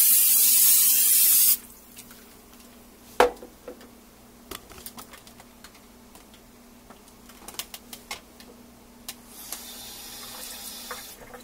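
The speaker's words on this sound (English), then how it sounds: "I'm going to give this a good spray" A brief burst of cooking spray hisses onto a griddle at the start, then stops, leaving quiet clicks and small kitchen noises.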